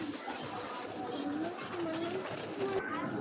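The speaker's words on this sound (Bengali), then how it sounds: "এটা হলো ব্রিডিং কবুতর, থরের কবুতর" Giribaz breeding pigeons coo softly in low, wavering phrases against a steady background hiss, faint and somewhat masked.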